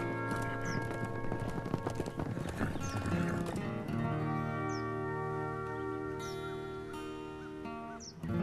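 Horse hooves clip-clop steadily at close range during a riding outing, with occasional whinnies and birds chirping in the background.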